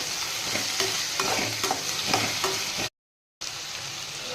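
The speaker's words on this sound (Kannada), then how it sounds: "ಈಗ ನೆಕ್ಸ್ಟು ಬದನೆಕಾಯಿ ಹಾಕ್ತಾಯಿದ್ದೀನಿ. ಬದನೆಕಾಯಿನ ಚೆನ್ನಾಗಿ ಫ್ರೈ ಮಾಡ್ಕೋಬೇಕು." Brinjal pieces fry in a pan added after tomatoes, with steady sizzling and repeated stirring scrapes close by, briefly cut to silence before the sizzle resumes.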